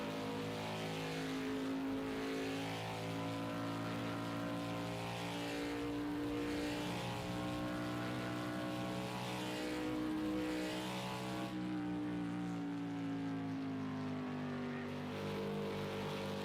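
A Ford Fusion stock car's engine in a NASCAR racing game drones steadily with shifting harmonic pitch, lifting off throttle into the corners and rising again, loud and continuous with no talk.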